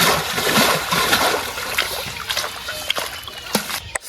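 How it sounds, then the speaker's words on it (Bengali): Pond water churned by hand to give fish oxygen, a continuous sloshing and splashing close by, with a few sharper splats toward the end. "এই পদ্ধতিতে দাদা জলটা নাড়িয়ে দিচ্ছে। এটা মাছের অক্সিজেন।"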